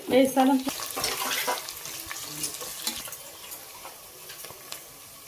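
Sliced onions sizzle with rock salt in an oiled pan as a spoon stirs them for a groundnut tomato bath. The scraping and sizzling are busiest at first, then settle into a quieter, steady fry.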